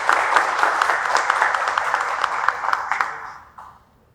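An audience at a poetry event applauds warmly, a dense, steady wash of clapping that carries on for several seconds before thinning out and fading near the end.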